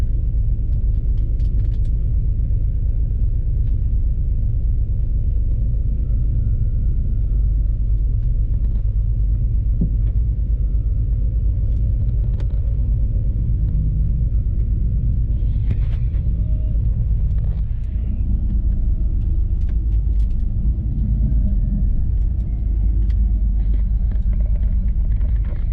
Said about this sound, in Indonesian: Jam setengah 12 malam, bus yang saya naiki diberangkatkan dari restoran Burger King.